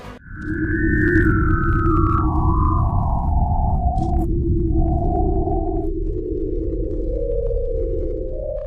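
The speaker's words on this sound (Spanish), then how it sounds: "de uno de esos planetas, Gliese 581d, se recibió una señal hace algunos años" A purported radio signal from the exoplanet Gliese 581d, heard as loud, sustained sliding tones that glide downward and then rise again over a dense low rumble, eerie and whale-like, with no voices.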